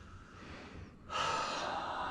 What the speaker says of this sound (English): So we do that through what we call assisted belly breathing.